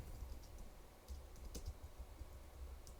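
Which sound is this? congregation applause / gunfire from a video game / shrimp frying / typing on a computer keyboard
typing on a computer keyboard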